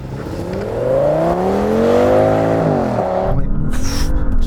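Audi S8 cars launching off the line in a drag race, a loud close engine roar rising steeply in pitch through the gears, then the note drops and fades as the cars pull away.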